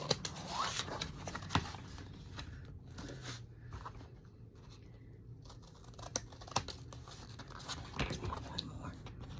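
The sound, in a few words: cutting scrapbook paper with a corner trimming tool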